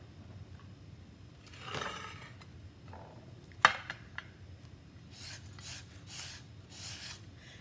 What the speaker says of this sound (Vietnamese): Mình sẽ bào đu đủ.